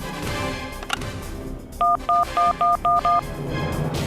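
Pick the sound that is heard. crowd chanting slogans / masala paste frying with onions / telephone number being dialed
telephone number being dialed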